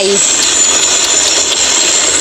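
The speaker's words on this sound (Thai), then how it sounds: "ได้มาลองความเร็วของเรือหางยาวไทย แต่มันไม่ใช่เรือหางยาวทั่ว ๆไป มันคือเรือซิ่งที่เขาจะใช้แข่งกันในคลอง" A Thai long-tail racing boat built for canal races roars with a loud, steady engine hiss and drone, close up and unbroken for the whole short stretch.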